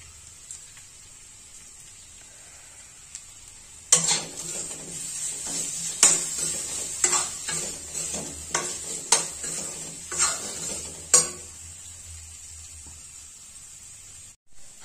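Ginger garlic paste frying in a pan for a Bihari tahari rice dish, a steady hiss of sizzling oil with repeated scrapes and clinks of a spoon stirring against the metal pan.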